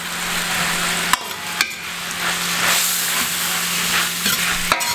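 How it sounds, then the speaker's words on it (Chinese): Chili peppers stir-fry with pork and soy sauce in a hot wok, a loud, close, continuous sizzle broken by sharp clanks and scrapes of the spatula against the metal, with no voices. "把辣椒炒个三两分钟"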